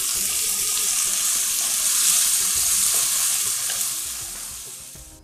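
Two finely chopped tomatoes sauté in a hot pan for vegetable kolhapuri, a loud, continuous sizzle with stirring scrapes that gradually fades toward the end.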